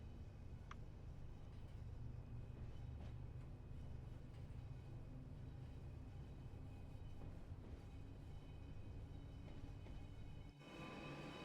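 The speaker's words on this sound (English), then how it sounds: "We are away with the train now." A train pulling away in Train Sim World 5 on the West Coast Main Line between Carlisle and Preston, hauling Mark 1 coaches: a steady, loud, low rumble with rolling mechanical noise throughout and no speech.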